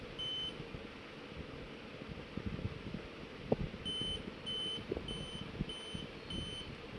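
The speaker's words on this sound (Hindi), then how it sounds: "ये जो बीप आ रही है, इसका सीमोस चेंज करेंगे तो बिल्कुल ओके हो जाएगा" Desktop computer at startup gives a CMOS-related warning as a series of short evenly spaced electronic beeps, faint under a steady hum and scattered clicks.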